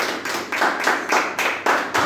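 A church congregation claps in a brisk, rhythmic beat, about eight sharp claps in two seconds, close and lively.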